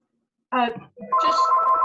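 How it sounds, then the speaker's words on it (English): A mobile phone rings during a municipal council meeting, starting suddenly after silence with a short melodic burst, then a steady, loud, sustained ringtone. "my phone's ringing"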